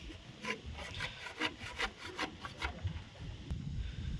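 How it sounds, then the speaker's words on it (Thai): Hand sawing through wood while a hand-pump well is assembled outdoors: a quiet, steady series of rasping strokes in an even back-and-forth rhythm, with no talk. "ให้เพิ่นเลื่อยเบิ่งก่อน"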